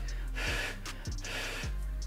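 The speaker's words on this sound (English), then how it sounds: "But as I blow hot air or if I breathe out," Three rhythmic, breathy exhalations pushed out through an ASICS runners face cover, close to the mic and fairly soft, each a short puff of air with a faint low thump.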